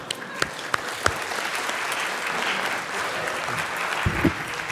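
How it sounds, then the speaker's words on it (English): Applause from a conference audience at an opening plenary session: a few sharp early claps grow into sustained, moderately loud clapping from the room. "I'd just like to clap for the anonymous"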